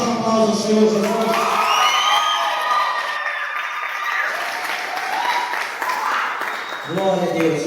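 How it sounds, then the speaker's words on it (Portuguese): Church congregation applauding during a service, sustained clapping and cheering from a crowd mixed with a speaking or singing voice over it throughout. "Vamos dar um aplauso ao Senhor Jesus."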